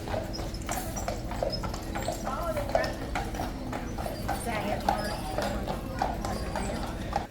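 Carriage horses on Mackinac Island clip-clop over the street in a steady, continuous patter of hoofbeats, with constant crowd chatter and people talking close by.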